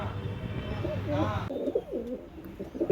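Pet pigeons, including young ones, coo in soft wavering phrases close by while a person talks over them and a low hum fills the background.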